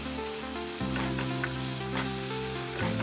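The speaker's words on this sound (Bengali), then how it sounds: "এরপর টমেটো পেস্ট সাথে কাশ্মীরি লঙ্কা গুঁড়োটাও মিশিয়ে দিলাম এবং সামান্য জল" Tomato paste, Kashmiri chilli powder and a splash of water sizzle in a pan for a Bengali-style fish dish, with a continuous loud frying hiss and occasional stirring scrapes, no voices.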